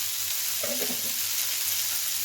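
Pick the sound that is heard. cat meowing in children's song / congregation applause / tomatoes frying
tomatoes frying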